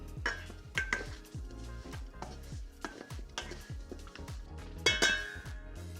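Repeated clattering and knocking inside a bowl as chicken wings are tossed in dry rub seasoning, irregular thumps with occasional sharper clinks, close and fairly loud.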